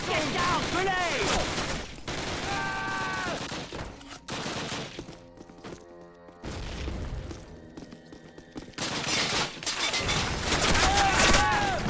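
Gunfire from the Call of Duty video game on Xbox 360, with loud bursts of rifle and machine-gun fire and booming explosions that run almost without a break, under shouted voices and music.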